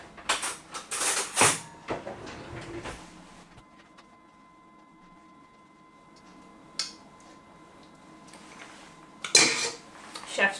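A knife scrapes cake batter off the edge of a baking tin during a chocolate cake bake, heard as a few close metallic clinks and scrapes at the start, then near silence with a faint hum and scattered small clicks.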